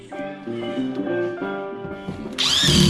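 Power drill driving screws to hold up a combi boiler during installation, several short whirring bursts of the motor rising and dropping in pitch, close and loud, ending in a higher-pitched screech.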